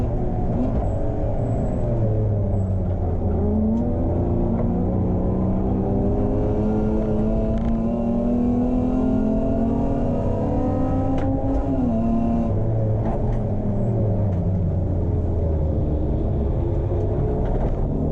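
A BMW E36 race car engine drones steadily during a race at Hampton Downs, loud and close with rising and falling revs as it pulls through gears, continuous throughout with no talk.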